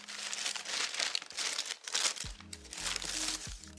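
A parcel being unwrapped, with close crinkling and rustling of packaging throughout, joined by music in the latter half.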